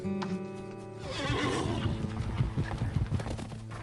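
Horses neigh loudly while hooves pound rapidly in a galloping rhythm, close and vigorous.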